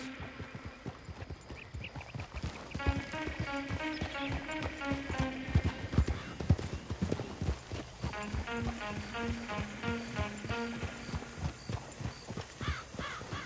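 Steady clip-clop of horse hooves at a trot while riding in Red Dead Redemption 2, rhythmic and close, with a background musical score running throughout.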